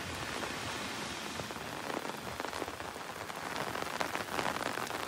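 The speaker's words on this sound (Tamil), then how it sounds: "கடந்த இரண்டு நாட்களாக தொடர்ந்து மழை பெய்து வருகிறது" Steady rain pouring down during a spell of continuous rainfall in Tamil Nadu, a dense hiss of drops pattering on surfaces, moderately faint and even throughout with no voices.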